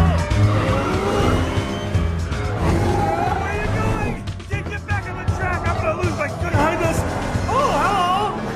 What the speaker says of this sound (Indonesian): di sini mereka dikejar oleh tim dari Sheng dan terjadilah sebuah balapan yang sangat epik